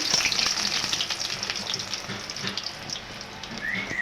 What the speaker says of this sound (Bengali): পেঁয়াজটা এখন সুন্দর করে বেজে নেব